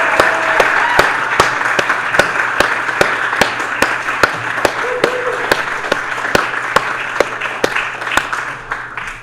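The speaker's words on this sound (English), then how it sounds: "Now please bring your hands together and applaud our lit majors and graduating seniors." An audience claps in applause for graduating literature majors and seniors at a department graduation celebration, a steady run of individual sharp claps over a low crowd background, fairly close and loud.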